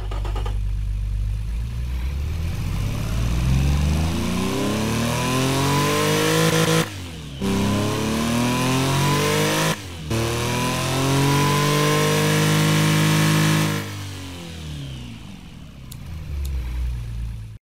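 A 155-horsepower turbocharged inline-three car engine in the Automation game revs loud and close, climbing through repeated rising sweeps with two abrupt breaks before settling to a lower drone.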